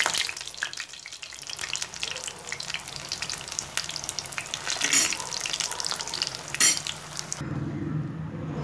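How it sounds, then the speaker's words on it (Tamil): Poha (flattened rice) cutlets fry in hot oil with a steady, close crackling sizzle throughout, a few louder pops and scrapes, and a shift to a duller hiss near the end. "இப்போ இந்த கட்லெட்ஸ் ஃப்ரை ஆகி ரெடி ஆயிடுச்சு"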